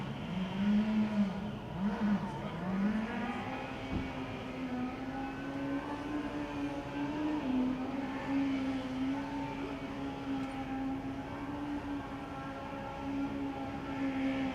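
A Hamburg Formula Student race car with servo- and solenoid-operated electric clutch, throttle and shifting circles a skidpad at Formula Student Germany 2016, its engine holding a steady droning pitch that dips and wavers, heard from a distance.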